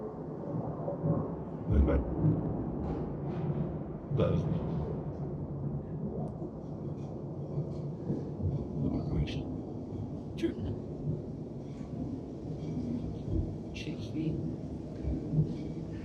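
Thunder rolls and rumbles at moderate loudness through a rural landscape soundscape, with bursts and fading reverberant echoes spread over a long stretch, and people talk faintly beneath it.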